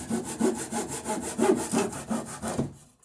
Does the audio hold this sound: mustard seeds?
no